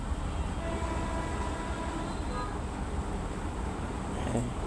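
Rumble from inside a moving passenger train, with steady wheel and carriage noise throughout and a distant horn toward the end.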